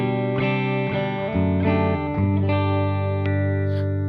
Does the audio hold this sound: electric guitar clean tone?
yes